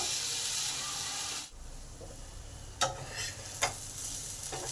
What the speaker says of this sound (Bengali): এবার একটা টমেটো কুচিয়ে দিয়ে দিলাম টমেটোটাকে ভালো করে কষে নেব